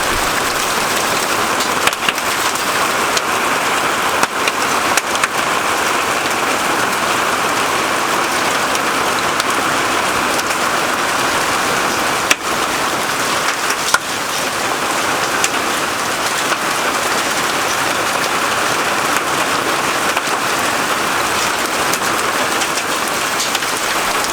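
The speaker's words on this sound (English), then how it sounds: "Thunder, lightning, some hail, and now some major storm." Heavy rain from a storm with thunder and hail pours down steadily and loudly onto a roof, a dense unbroken roar with occasional sharper drops or knocks.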